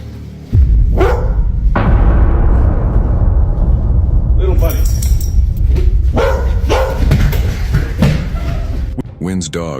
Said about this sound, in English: dog, Charlie, can be heard barking at something